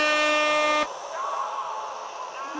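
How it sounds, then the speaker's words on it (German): A motorbike horn in the Nintendo Labo motorcycle game gives one steady electronic honk lasting under a second, followed by a low background hum. "Hupe."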